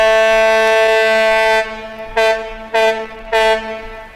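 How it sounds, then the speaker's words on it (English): A ship's horn sounds on the River Avon as the vessel passes under the Clifton Suspension Bridge: one long, loud, steady blast followed by three short, evenly spaced toots. "That's the sound of a ship on the River Avon as it passes under the Clifton Suspension Bridge."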